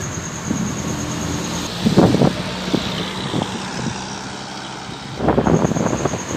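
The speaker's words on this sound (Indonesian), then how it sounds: "Ya, bus Rapi menuju ke Medan teman." A Rapi intercity bus bound for Medan passes by on the road, a loud rumbling engine with gusts of heavy mechanical noise and a faint high beeping tone at the start and again as it goes.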